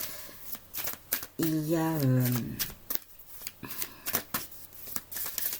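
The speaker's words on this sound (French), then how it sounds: "je vais vous dire aussi des choses tout en mélangeant les cartes." A deck of playing cards is shuffled again and again, giving quick, crisp riffling bursts in an irregular rhythm close by, with a person talking over part of it.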